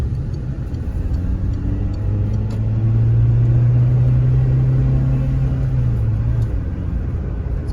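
A Citroen C2 car engine pulls uphill in third gear under load, a steady close mechanical rumble with a low drone that holds and rises slightly through the middle before easing off.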